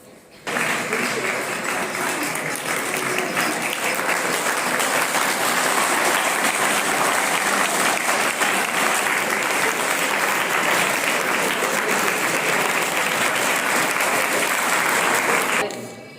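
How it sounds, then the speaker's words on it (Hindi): An audience at a Veergatha 2.0 Azadi Ka Amrit Mahotsav school event at Mount Litera School in Kathua breaks into sustained applause, a dense steady clapping that runs strongly for about fifteen seconds and then stops abruptly. "तालियों की गड़गड़ाहट के साथ"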